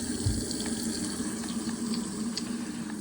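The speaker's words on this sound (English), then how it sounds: "how we can test that is by simply turning on the water" Steady rush of water pouring from a household tap during plumbing winterizing, constant and close, with a low hiss filling the whole stretch.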